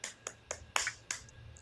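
Five short, sharp hand claps spaced unevenly across about a second and a half, crisp and fairly quiet against a low background hum.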